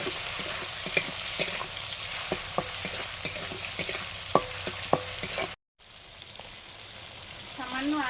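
Shrimp coated with salt and turmeric frying in hot oil with green chilli and nigella seeds, a steady close sizzle broken by sharp pops and stirring clinks, briefly cutting out before a quieter sizzle resumes.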